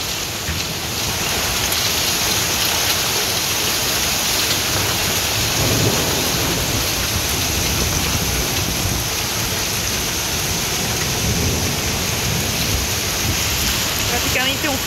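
Hail pelting Via Cavour, a street in Crema, Italy: a dense, steady roar of countless impacts that stays loud and unbroken throughout, with a low rumble underneath.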